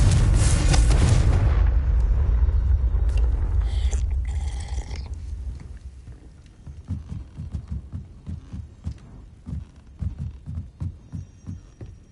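Bombarda and Confringo explosion spells in a video game: a loud, close blast booms and rumbles, fading over several seconds, followed by a low, steady throbbing pulse.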